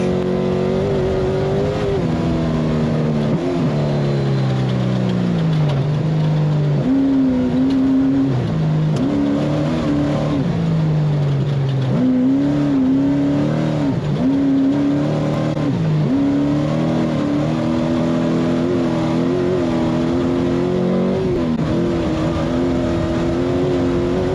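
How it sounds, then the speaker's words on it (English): The race-leading off-road vehicle in the SCORE Baja 400 nears the finish line, its engine droning loud and close, the pitch rising and falling with each shift and turn over a continuous roar. "this is your race leader right here, Alan Ampudia, coming into the finish line"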